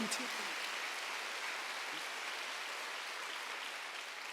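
Church congregation at a Wednesday service clapping together, a steady wash of applause that fades slightly over a few seconds, heard at moderate distance.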